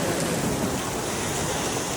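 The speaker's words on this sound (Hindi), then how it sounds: "ये देखो भाई ओले पड़ रहे हैं ओले।" Hail pours down outdoors during a bike ride, making a dense, constant hiss of pelting ice that stays even and loud throughout with no voices.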